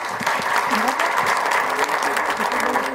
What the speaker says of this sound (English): request all of you to carry it with a loud cheer